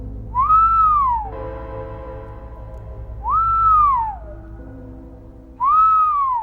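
Three drawn-out whistles, each rising then gliding down, come a few seconds apart and stand out clearly over a soft, low sustained musical drone, as a story sound effect.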